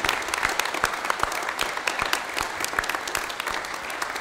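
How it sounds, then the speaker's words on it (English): Congregation applause at a Presbyterian church service honoring veterans, dense steady clapping from many hands with distinct individual claps popping out, moderately distant and unbroken by speech. "Please join me in a round of applause."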